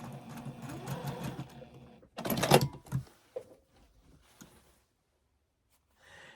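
A sewing machine stitches quilt fabric in short close bursts of rapid mechanical whirring, with a louder burst midway, then quiet gaps and a brief restart at the end.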